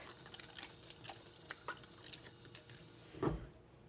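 A vegetable rinsed under running water in a kitchen: a faint trickle and scattered drips, with a louder splash near the end, and no talk.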